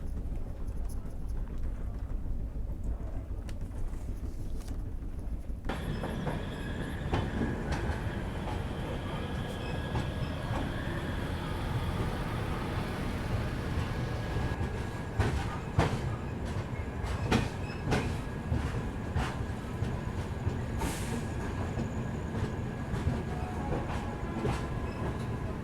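Shri Shakti AC Express (22462) running on the rails out of Katra toward New Delhi, a steady loud rumble with rhythmic clickety-clack of wheels over rail joints and occasional faint squeals throughout.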